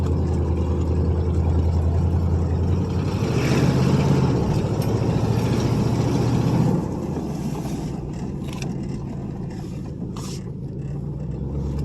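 A 1977 Buick LeSabre fitted with an Oldsmobile 350 V8 rumbles steadily as it drives around a property, its engine note rising then easing off partway through, with faint clicks and knocks on top.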